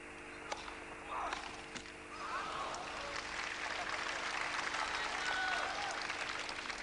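A large crowd of about 15,000 to 16,000 spectators applauds steadily on Wimbledon's Centre Court during the 1984 Connors versus Lendl semifinal, a sustained wash of clapping that fills the whole stretch.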